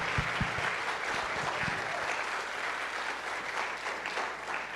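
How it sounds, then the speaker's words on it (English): A convocation audience at Santa Ana College applauds steadily, a dense wash of clapping that holds at an even level across the room without any speech. "One more round of applause"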